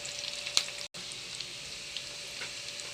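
Ginger and aromatics sauté in a pan for a Filipino fish sinigang, giving a soft, steady sizzle and fine crackle, with one sharp clink and a brief dropout near the start.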